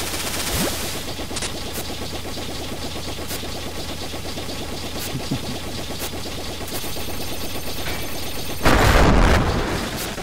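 Repeated gunfire in the Iconoclasts video game, a steady rapid string of shots running throughout over music, with a louder burst near the end.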